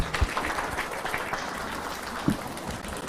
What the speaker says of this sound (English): Can we all stand up and give His Excellency a clap offering?